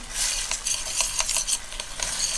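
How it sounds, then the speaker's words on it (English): A spoon stirs garlic through honey garlic shrimp sauce in a hot pan, soft scraping strokes repeating over a faint sizzle, close and without talk. "I'm just going to get this all mixed around."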